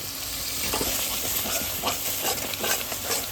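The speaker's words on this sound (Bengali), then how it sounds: "এবার এই ফেটানো দইটা আমি দিয়ে দিচ্ছি।" Beaten yogurt goes into a hot pan for a vegetarian jackfruit kalia, with cashew and rice paste already in. A steady close sizzle runs throughout, broken by short bursts of stirring and scraping.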